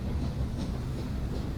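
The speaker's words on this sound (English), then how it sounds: "Happy little tank engine doing its bit." A small tank engine runs along the rails in the video game Transport Fever 2, giving a steady, continuous rumbling roll of wheels with a faint rhythmic clatter, heard on its own.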